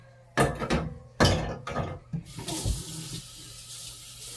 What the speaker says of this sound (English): Just add a little bit of water to whatever the green juice was in